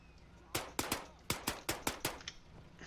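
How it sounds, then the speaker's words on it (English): Gunfire exchange in the military game Arma 3: a string of eight or so sharp rifle shots in quick irregular succession, crisp and fairly close over a quiet background. "He's just been exchanging fire, making a few kills."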